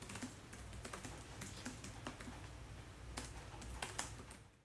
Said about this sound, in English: The keyboard has minimal flex and provides a decent typing experience.